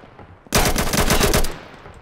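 A single loud burst of rapid automatic gunfire in a Roblox copy of Rainbow Six, close and lasting about one second, with no talk over it.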